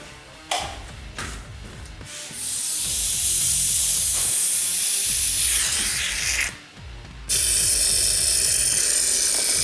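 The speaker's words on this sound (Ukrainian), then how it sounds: "Зараз пройдемося поспускаємо повітря з батареї." Air hisses out of a heating radiator's bleed valve in a closed two-pipe system being refilled with water, a loud steady spray broken by a few short pauses and valve clicks.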